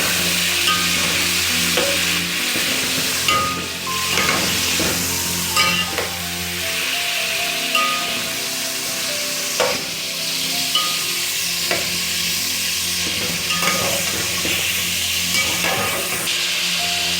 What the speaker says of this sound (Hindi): और इसको बिल्कुल ज़रा सा भूनेंगे, ज़्यादा नहीं भूनना है